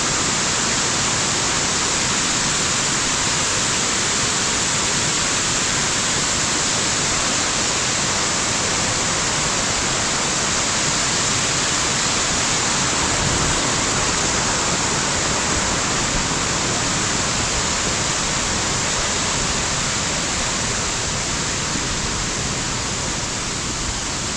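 Pokali waterfall roaring steadily, a dense broadband rush of falling water that stays loud and constant throughout with no pauses or voices.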